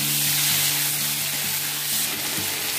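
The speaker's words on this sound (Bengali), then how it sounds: "আমার মশলাটা কষা হয়ে গেছে, বুঝতেই পারছেন শুকনো শুকনো হয়ে গেছে" Spice paste for a Bengali fish curry fries in a wok, giving a loud, even, unbroken sizzle with a low steady hum underneath throughout.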